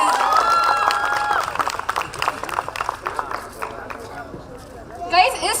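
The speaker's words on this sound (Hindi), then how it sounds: "इस परफॉर्मेंस के लिए इतनी सी तालियां तो नहीं है." An audience at a young entrepreneurs summit applauds after a performance, giving a burst of scattered clapping and crowd noise that thins out while voices chatter, then a short cheer near the end.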